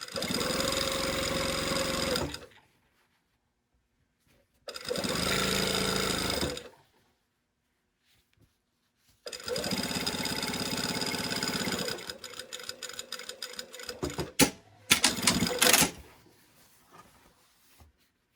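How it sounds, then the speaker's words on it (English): A sewing machine stitches along the under collar of a garment in three bursts of steady whirring with silent pauses between them, and it ends in quicker, uneven stops and starts. "I'm just going to sew on that line again"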